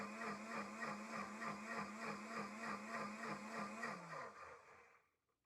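A blender grinds soaked nuts into homemade nut milk with a steady, loud, pulsing whir that holds for about four seconds, then winds down and stops.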